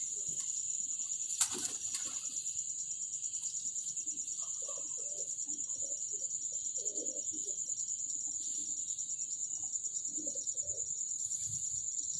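Soft, low pigeon coos repeat now and then against a steady high insect-like whine and faint background hiss.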